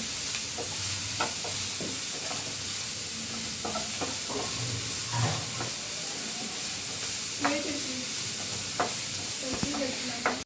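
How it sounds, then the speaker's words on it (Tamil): Onions sautéing in a pan in a home kitchen, a steady close sizzle and hiss with occasional stirring scrapes and clinks running throughout. "சீக்கிரம் வதங்கிடும், வெங்காயம் வதங்கும்."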